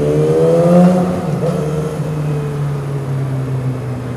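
A 2012 Yamaha R6 sportbike engine revs on a city ride, its loud, close whine climbing briefly and then easing into a steady, droning hum.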